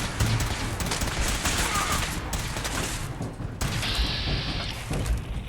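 Continuous heavy gunfire in Fallout 4 combat, a dense rapid stream of loud shots and thuds with a mechanical whir partway through, close and relentless, no speech.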